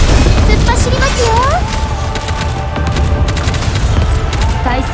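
Gunfire rattles through a boss fight in the mobile shooter Nikke, loud rapid bursts and booms packed densely under a character's energetic voice lines and background music.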